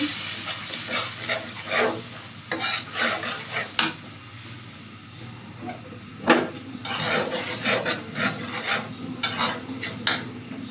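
Spice paste sizzling and being stirred in a pan with a spatula for a Bengali koi fish, eggplant and potato curry, a steady hiss broken by repeated scraping strokes of varying loudness, close up with no talking.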